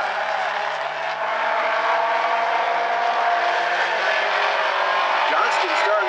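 Outlaw compact race cars lapping South Sound Speedway, a steady loud engine roar that holds for the whole stretch, with crowd or commentary noise running underneath.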